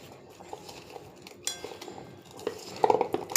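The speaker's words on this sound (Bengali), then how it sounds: "এবার এটাকে ভালোভাবে মাখাতে হবে।" Small fish being mixed by hand with salt, turmeric and mustard oil in a metal bowl, giving soft wet patters and light clinks, quiet and close with no talking.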